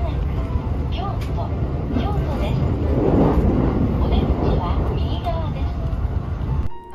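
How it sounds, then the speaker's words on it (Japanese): Interior of a moving JR Shinkaisoku (new rapid) train, a steady rumble of wheels and running gear with faint squeals, heard under someone talking, ending in a sharp cut near the end. "今乗っているのは新快速快速列車です"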